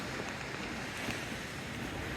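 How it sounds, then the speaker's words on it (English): Sea waves breaking along a seafront, a constant soft surging wash heard from a short distance, fairly faint and unbroken, with no voices. "Get some of the sounds of the waves."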